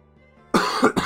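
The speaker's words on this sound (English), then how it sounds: "Don't mind my coughing." A sick person coughs twice after a quiet stretch, a harsh, loud burst followed by a second shorter cough close to the microphone.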